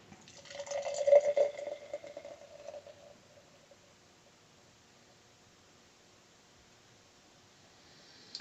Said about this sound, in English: I'm not getting as much head as I usually get when I pour a beer